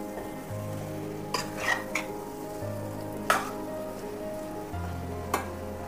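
Chili powder fries in oil in a pan for an egg curry, giving a steady close sizzle with a low hum beneath and a few sharp stirring clinks and scrapes.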